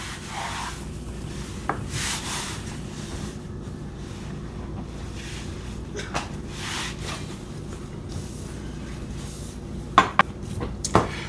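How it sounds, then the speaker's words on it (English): A cutting board is wiped down in a home kitchen, giving a steady soft rubbing and swishing across the surface with a few faint knocks near the end, quiet and continuous, with no talking. "Wipe down our cutting board."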